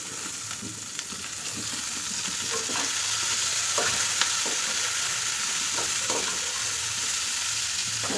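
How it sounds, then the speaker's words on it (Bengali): Mixed cabbage, bottle gourd and papaya vegetables cooking slowly over a low flame, a soft steady sizzle close by with scattered scrapes and clicks of stirring, no voices. "পাতাকপি লাউ পেঁপে মিক্স সবজি সবজিটা রান্না করছি ধীরে ধীরে একদম লো ফ্লেমে"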